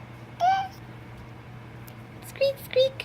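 A toddler's squeaky mouse imitation: one high vocal squeak, a pause, then two quick squeaks in a row, close to the microphone in a quiet room.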